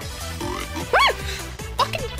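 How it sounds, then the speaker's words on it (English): A dog barks a couple of times, one loud close bark followed by a shorter yelp, over game background sounds and a voice speaking. "Fucking dog!"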